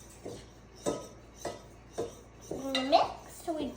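Chocolate gravy mixture being stirred in a pot, a spoon knocking and scraping the sides in a regular rhythm of about six clinks, close and fairly quiet, with brief sounds of a voice near the end.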